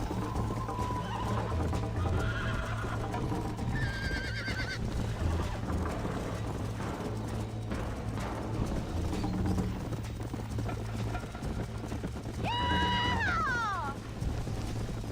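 A horse in the Red Dead Redemption video game gallops with steady clip-clop hoofbeats throughout, letting out a faint whinny early on and a loud, clear neigh near the end over the game's background sound.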